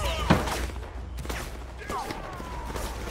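Musket volley fire in a Napoleonic Wars video game, a sharp shot up front followed by scattered ragged reports and crackle over a steady low rumble, with voices talking over the battle.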